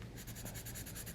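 Colored pencil drawing on uArt sanded paper, a steady close scratchy rubbing of pencil lead across the gritty surface in short repeated strokes, quiet and continuous with no talk.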